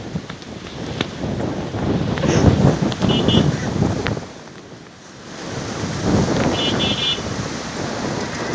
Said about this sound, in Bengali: এই জায়গায় প্রচুর ঝড় বৃষ্টি হইতেছে